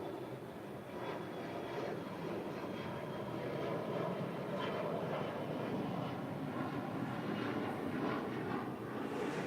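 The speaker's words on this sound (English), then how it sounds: "This is United Express 4643 departing to San Diego on an E175" A United Express Embraer E175 jet departs LAX for San Diego, a steady broad engine roar heard from a distance at moderate loudness, with no talking.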